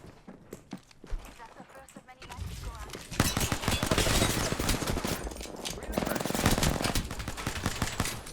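Rapid automatic gunfire in the video game Apex Legends, starting with scattered shots and building into sustained bursts of fire with footsteps mixed in, loud and continuous, while players talk over it.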